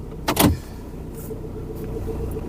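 A car pulls out of a driveway near a barn. A sharp thump or clunk comes near the start, then a steady low engine hum continues close by with no talk.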